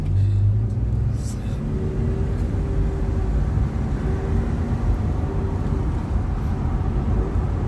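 A BMW xDrive car drives on a sunny day in Calgary, Alberta, with a continuous low engine and road rumble heard from inside the cabin, steady with no sharp events.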